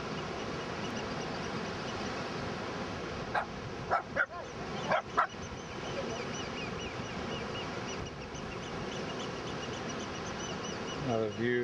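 Several short, fairly faint dog barks ring out in quick succession on a beach by a rock pool, over a constant wash of wind and surf.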